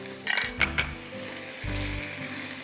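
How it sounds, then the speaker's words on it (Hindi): Onion and chicken sautéing in a pan with ginger and garlic for spicy chicken pasta, a steady sizzle broken by a few sharp clinks and scrapes of stirring early on, no voices. "प्याज और चिकन के साथ इसको हम सौते करते हैं"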